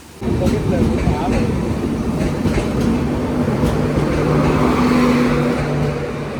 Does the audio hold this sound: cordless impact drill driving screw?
no